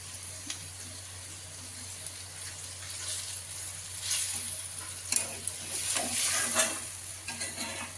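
Prawns and a little water going into sizzling masala in a pan, a bright crackling fry with bursts of hissing and stirring scrapes, close and without speech.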